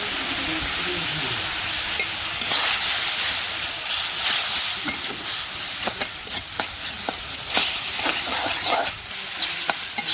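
Fish and potatoes fry together with turmeric and chili, a loud, close, continuous sizzle broken by clicks and scrapes of stirring, with no voices.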